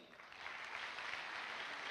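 An audience at a motivational seminar gives a round of applause for a participant, a soft, continuous wash of clapping that swells slightly after the start and holds steady.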